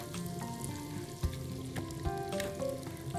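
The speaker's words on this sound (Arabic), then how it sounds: "ادي البصل بتاعنا اهو هنحطه كده هنا" Onion goes into a hot pan and fries with a continuous close sizzle, broken by a few soft clicks and taps of a utensil, and no one speaks.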